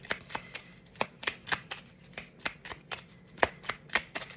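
Oracle cards are riffled and shuffled for a colour-oracle reading, giving a run of crisp, evenly spaced papery flicks and slaps close up, with no talking over them.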